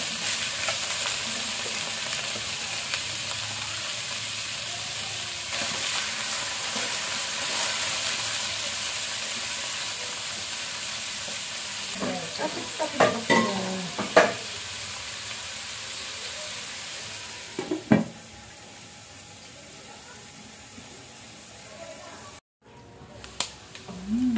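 Pork ribs fry in a pan with a steady crackling sizzle, interrupted now and then by clattering stirs and scraping of utensils.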